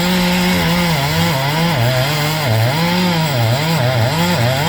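A Stihl chainsaw about ten years old cuts through oak, its engine loud and close, droning without a break while the pitch sags and recovers as the chain bogs down in the wood.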